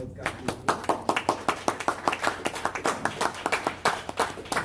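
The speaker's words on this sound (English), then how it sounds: "So let's give everybody a round of applause." Sparse, individual hand claps in a small audience at a poetry festival page-to-stage panel, with distinct separate claps in an uneven rhythm rather than a dense roar, close and moderately loud.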